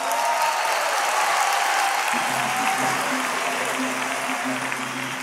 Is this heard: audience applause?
yes